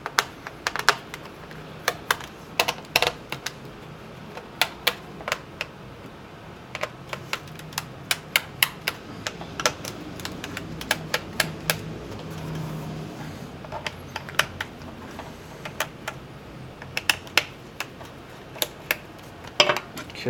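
Taking the cover off a Dell Inspiron 1525 laptop: a long run of sharp, irregular plastic clicks and taps close by, scattered like typing over a quiet background.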